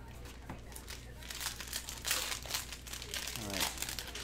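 Crinkling cellophane and tearing plastic as a 2020 Panini Prizm football cello pack is ripped open, close and fairly steady, with sharp crackling bursts over a faint low background hum.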